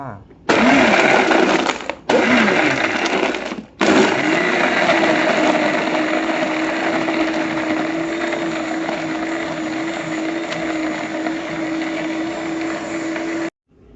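A blender whirs loudly up close while blending cappuccino coffee, its motor cutting out twice briefly before it runs steadily for about ten seconds, then stops abruptly.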